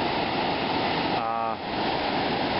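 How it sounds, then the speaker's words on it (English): A very fast-flowing river below Courmayeur on the Italian side of Mont Blanc, carrying twigs and branches, roars as a dense, steady rush of water, with a brief voice cutting in partway. "down here is a very fast flowing river"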